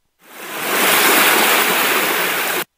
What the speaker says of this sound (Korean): 파도를 한번 넣어보자. 파도 소리 시원할 것 같다.